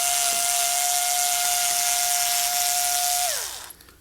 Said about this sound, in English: So with the driver we remove the screws.